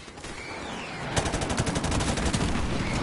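Rapid automatic gunfire from a Call of Duty match, a dense burst of evenly spaced shots starting about a third of the way in and rattling on loudly to the end, no voices.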